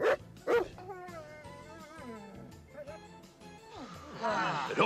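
A voice imitates the barking of Rowlf, the Muppet dog, with a few yipping woofs and whimpering tones, close and clear, ending in a breathy rush.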